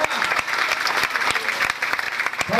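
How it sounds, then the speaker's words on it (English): An audience at a girls' senior grammar school seminar claps in a brisk, dense round of applause, loud and steady, with a few sharper individual claps and a faint murmur of voices. "Come on, a round of applause for Honorable Eddie G."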